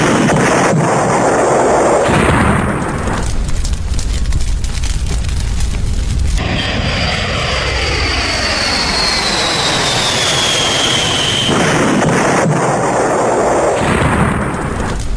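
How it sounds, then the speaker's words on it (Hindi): Loud roaring jet engine noise from an Air India airliner crash at Ahmedabad, with a deep rumble and a descending whine, building into heavy, explosive blasts, with no voices. "प्लेन क्रैश होता है पूरी तरह से टुकड़ों में बिखर जाता है, जोरदार धमाका होता है"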